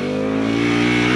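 A car engine revs hard and steadily as the accelerator is held down, a loud, close, continuous drone without any break.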